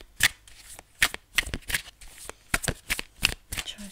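Tarot cards are shuffled by hand in a quick series of crisp, close riffles and slaps, about a dozen bursts in an uneven rhythm with no talking.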